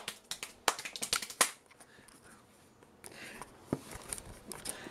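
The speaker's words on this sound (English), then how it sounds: "I'm clapping." Quick hand claps close by, a fast burst of sharp cracks followed by a pause and then a second looser run of claps.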